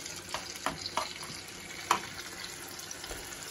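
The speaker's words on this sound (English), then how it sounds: "Put the sliced partridge up into the frying pan." Steady sizzling of sliced partridge frying in butter and oil in a hot pan over medium heat, with a few sharp pops and clicks scattered through the hiss.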